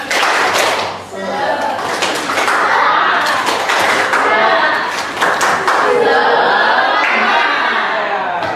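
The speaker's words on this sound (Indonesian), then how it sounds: "Tepuk semangat." A classroom group claps loudly in a fast, patterned spirit-clap rhythm, with voices chanting along, dense and energetic throughout.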